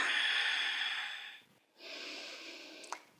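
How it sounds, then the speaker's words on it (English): Slow, deep breaths drawn in and pushed out through the nose, a close, airy nasal inhale followed by a brief pause and then a long exhale. "Taking deep inhales and exhales in and out through the nose."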